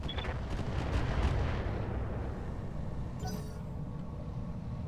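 Mech weapons in the Roguetech game fire at a Stormcrow, a dense run of heavy booming shots and rumbling impacts that fades to a lower roar, with a brief bright metallic burst near the end.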